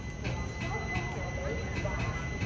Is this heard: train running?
yes